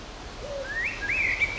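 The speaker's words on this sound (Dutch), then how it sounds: "Je hebt de merel." A common blackbird sings on a nature walk near Oudegein, its clear rising and warbling phrases carrying at moderate distance over a quiet outdoor background, with no voices.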